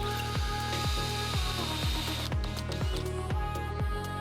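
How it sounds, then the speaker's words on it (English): A power drill bores out old aluminium fixings on a narrowboat roof, its motor whining steadily under a regular series of rapid, evenly spaced pulses as the bit bites through the metal. "Most of the old fixings were made of aluminium, so I was able to drill them out easily"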